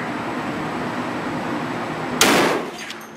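A single loud .50 BMG rifle shot fires with a sharp broadband crack after a steady outdoor hum, its blast then decaying over the last second.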